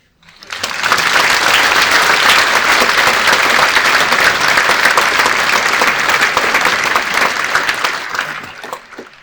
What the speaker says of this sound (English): He definitely deserves thunderous applause.